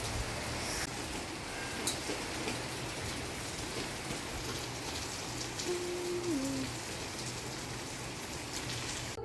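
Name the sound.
heavy rain falling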